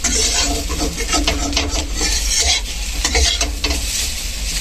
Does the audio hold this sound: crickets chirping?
no